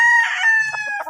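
A fighting cock on a farm crows loudly and close by, one drawn-out call followed by shorter clucks, with faint talk in the background.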